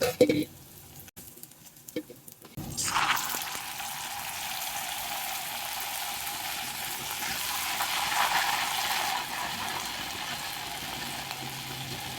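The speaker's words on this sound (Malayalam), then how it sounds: "ഇനി അടുത്തത് നമുക്ക് ഇടുമ്പോൾ ഓരോന്നോരോന്നിട്ടിട്ട് വറുത്ത് കോരാം" After a quiet start, okra hits hot oil and a loud, steady sizzle takes over, bubbling continuously and swelling slightly later on.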